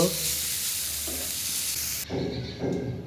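Leafy greens stir-fried in a hot oiled pan give a loud, steady sizzle and hiss, with the clatter of a spatula stirring and scraping in bursts near the end.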